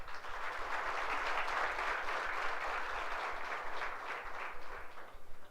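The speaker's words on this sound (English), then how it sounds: "Our students can give a big applause in welcoming the trainers." A room of students breaks into applause to welcome visiting trainers, a continuous, fairly close clatter of many hands that stays full for several seconds before loosening into scattered claps.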